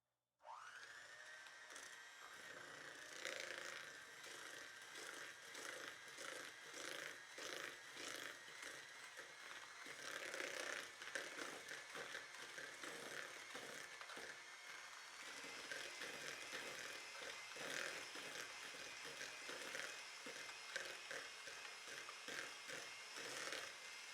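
An electric mixer creams butter and brown sugar for raisin nut cookies, its motor whirring steadily and fairly loud for the whole stretch with a rough, grinding edge and no talking.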